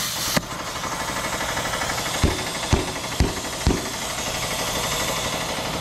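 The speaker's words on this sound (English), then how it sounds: "Knew I should have put a longer cord on that air compressor" Electric air compressor whose tank has a hole in the bottom, running with a steady mechanical drone throughout. Four sharp knocks sound in quick succession near the middle, and the unit keeps humming afterward.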